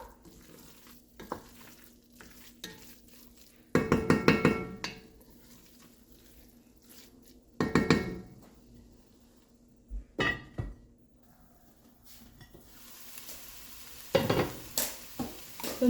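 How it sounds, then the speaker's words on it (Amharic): Berbere chili pepper fries in a pot for a homemade beef chili, with a spoon stirring and scraping in several loud bursts of sizzle between quieter gaps. "በርበሬውን ደግሞ አብሬ አበስለዋለሁ።"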